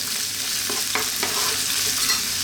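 Chopped garlic, a medium onion and olives fry in a pan, giving a steady close hiss with a few soft stirring scrapes.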